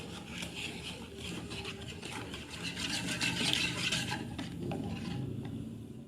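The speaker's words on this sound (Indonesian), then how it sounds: "Tuangkan sebagian susu ke campuran kuning telur. Campur hingga rata." Stirring milk into an egg yolk mixture, a steady close wet swishing and soft scraping that continues without pause, fairly quiet and alone.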